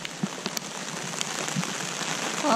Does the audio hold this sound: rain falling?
yes